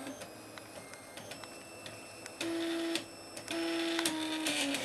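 A Prusa 3D printer drives its carriage along the axes to play a tune, giving quiet mechanical ticking and clicking broken by sustained stepper-motor tones that rise into a few held musical notes.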